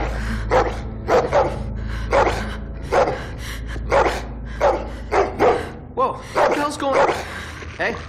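A dog barks repeatedly in The Walking Dead: The Final Season video game, the sharp barks and yips coming in an uneven series of bursts, some doubled, under low game ambience.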